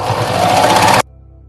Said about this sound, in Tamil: அதை இந்த மாதிரி உள்பக்கமாக மடித்து வச்சுட்டு இந்த மாதிரி தைச்சிக்கோங்க.